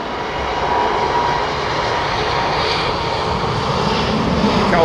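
Dreamliner jet aircraft engines at Heathrow Airport give a steady, distant roar with broad hiss, holding an even level for several seconds without voices.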